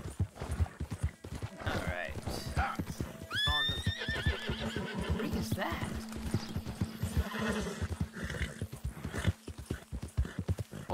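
Rapid hoofbeats clatter steadily as a horse gallops in the video game Red Dead Redemption, and partway through the horse lets out a loud, shrill whinny.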